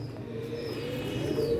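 Paired pigeons on a rooftop loft coo softly in low, rolling murmurs, close and continuous, with a faint tonal hum behind.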